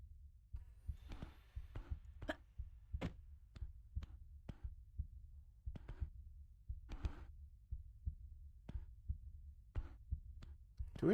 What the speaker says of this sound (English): Do we know why there's a heartbeat in this area?